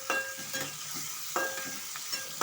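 Onions, green chillies, mustard seeds, cumin and fresh ginger garlic paste sizzle in a pan while a spoon scrapes and stirs them in a few distinct strokes, close and moderately quiet, with no talking.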